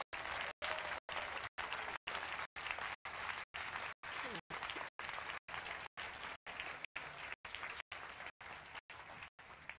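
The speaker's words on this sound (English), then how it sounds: "Applause, please, for Professor Alice Roberts." Steady, loud applause from a large audience at a science communication competition final, continuous clapping filling the whole stretch without a pause.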